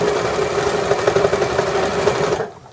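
A sewing machine stitches back and forth across a placemat seam in a steady, fast mechanical whir with rapid needle ticks, close and loud, stopping abruptly near the end.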